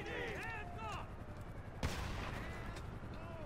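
A single loud gunshot cracks out in the video game GTA 5 Online near the middle, sharp and brief, with voices talking over the game sounds before and after it.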